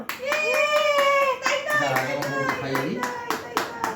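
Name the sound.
hand clapping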